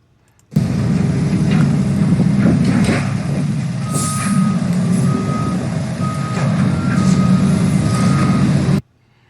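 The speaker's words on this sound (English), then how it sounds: "that's the sounds of the construction that's playing down here" A heavy construction vehicle's steady rumble with repeated high reversing beeps sounding at intervals, and a brief air hiss in the middle, continuous and fairly close.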